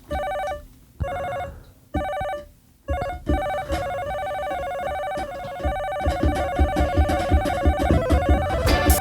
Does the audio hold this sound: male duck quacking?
no